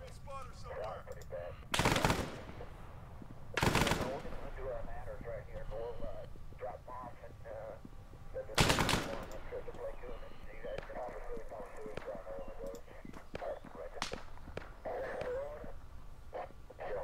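Gunfire in the video game Arma 3 Prairie Fire: three loud, sharp shots ring out close by at spaced intervals, with fainter distant shooting crackling in between over steady background noise and radio-like chatter.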